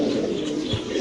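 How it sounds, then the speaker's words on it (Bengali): A pair of grizzle Budapest pigeons coo in a pigeon loft, a brief, close, low murmuring coo heard without talk. "এখানে আছে এক জোড়া কবুতর দর্শক আমরা দেখাচ্ছি ইনশাআল্লাহ"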